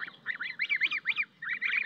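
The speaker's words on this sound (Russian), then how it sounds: "И отвечают всегда только гуси." Geese honk in a yard alongside ducks, a run of about eight loud, nasal calls in quick uneven bursts with a short pause before the last few, heard close and with no talking.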